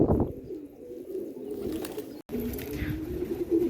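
Multani pigeons cooing up close, a few low rolling coos in quick succession with a brief gap partway through, plain and fairly loud with no talking over them.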